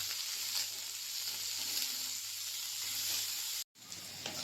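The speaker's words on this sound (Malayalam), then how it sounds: "2 കരിവേപ്പിലയിൽ ഇട്ട് കൊടുക്കാം. ഒന്ന് വഴറ്റിയെടുക്കാം." Green chilies and curry leaves sizzle steadily in hot oil in a pan for a few seconds, a constant close frying hiss that cuts out abruptly near the end.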